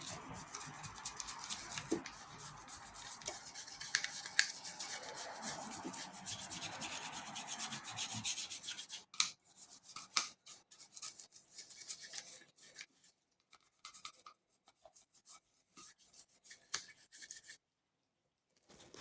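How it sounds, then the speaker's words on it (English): A toothbrush scrubs carbon off a Volvo XC90 B4204T35 cylinder head, making close, rapid bristly rubbing strokes: continuous and loud at first, then breaking into shorter, sparser bursts with pauses between. "Now use your toothbrush a little bit more."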